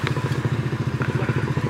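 Motorcycle engine running steadily on a ride from Khotang toward Kathmandu, a close, continuous pulsing rumble with a faint clatter on top and no voices.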